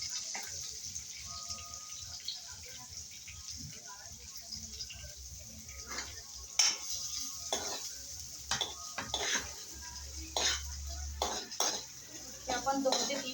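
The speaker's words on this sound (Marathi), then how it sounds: "ते आपण 2 ते 3 मिनिट चांगलं भाजून घेऊया, म्हणजे जोपर्यंत कांदा ब्राऊन होत नाही तोपर्यंत." Chopped onion frying in a pan for upma, a soft sizzle under repeated scraping and stirring with a spoon against the pan, with occasional louder clanks and a voice speaking now and then.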